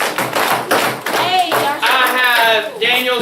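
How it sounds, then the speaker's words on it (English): A classroom of students performs a body-percussion rhythm of snaps, claps and pats: a run of sharp, crisp hits in quick succession, close by, with voices speaking over and between them. "Alright, 2 snaps, 2 claps,"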